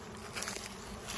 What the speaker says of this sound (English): So here comes a swarm.